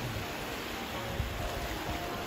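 Steady broadband rush of river water flowing beside the sea at Tahusan, Hinunangan, Southern Leyte, a continuous wash with low rumbling surges, fairly faint and without voices.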